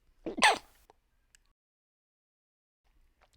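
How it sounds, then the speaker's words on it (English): One sharp, close sneeze bursts out, followed by near silence with a couple of faint clicks. "I couldn't mute myself for the first sneeze."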